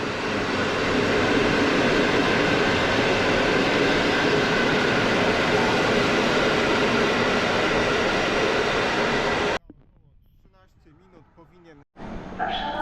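An EU160 electric locomotive hauls a train past at close range, a loud, steady roar of wheels and motors that cuts off suddenly near the end, leaving quiet background and a brief voice.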